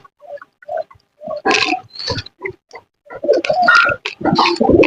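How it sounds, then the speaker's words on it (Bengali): Pigeons coo and call in short, repeated bursts at close range as they are coaxed to eat from a hand at a pigeon farm, the throaty calls coming in uneven clusters. "তাও আমি একবার ট্রাই করে দেখি যে কোনো কবুতর আমার হাতে খেতে আসে কিনা"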